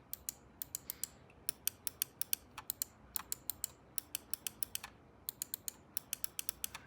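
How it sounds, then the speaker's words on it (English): SteelSeries Aerox 3 gaming mouse buttons clicked in a quiet room: sharp, close, crisp clicks in quick bursts of several, with brief pauses between runs. "here's a click sound test."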